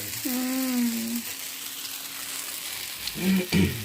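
Dried red chillies frying in hot oil, a steady broadband sizzle running throughout beneath a voice, with a couple of louder stirring bursts near the end.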